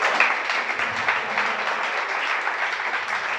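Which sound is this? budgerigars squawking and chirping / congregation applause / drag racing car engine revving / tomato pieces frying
congregation applause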